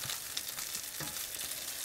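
Chicken cutlets frying on high heat in a pan, a dense steady hiss and crackle of oil with a few small pops, close and without any talk.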